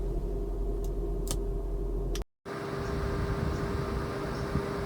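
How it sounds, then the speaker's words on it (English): Cooling fans of a Tesla running a battery health test give a steady whirring hum with a constant tonal drone, briefly cutting out before resuming at a similar level. "All the fans are running, and the car is doing whatever it can to generate a load"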